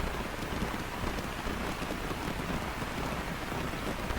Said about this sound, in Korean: 비가 점점 더 거세지고 있는데요.